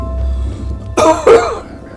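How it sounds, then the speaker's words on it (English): Two sharp, close coughs in quick succession, the second harsher and more throaty, after a brief stretch of low background hum. "Sorry about the coughing."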